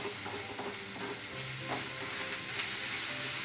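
Onions sautéing in a pan for a wheat poori side dish, a steady dense sizzle and crackle throughout with a faint low hum beneath, no voices.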